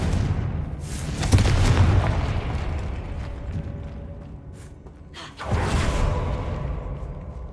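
A Confringo fire spell explodes in the Hogwarts Legacy video game, giving booming blasts with a whooshing burst near the start, a quieter stretch, and a second heavy blast rolling in toward the end.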